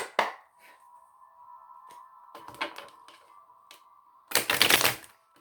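Crisp riffling and snapping of a tarot card deck being shuffled, with a faint steady hum underneath and a loud burst of rapid card flutter near the end.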